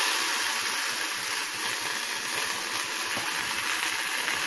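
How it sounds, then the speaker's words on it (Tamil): Ridge gourd peel sautéing in a pan with oil after garlic has browned, a steady close hiss and sizzle that continues evenly throughout without talk. "இந்த தோலை போட்டு நல்லா வதக்கி"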